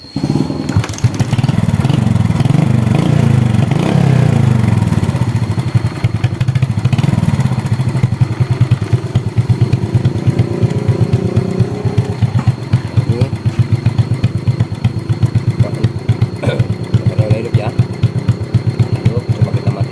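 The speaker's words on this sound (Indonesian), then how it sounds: "Coba kita hidupin motornya, coba kita tes motornya." A Suzuki Smash motorcycle engine fires up and settles into a steady, loud idle, its rapid even putter running continuously throughout with a faint voice underneath.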